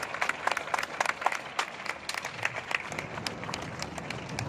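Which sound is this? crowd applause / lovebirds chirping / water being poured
crowd applause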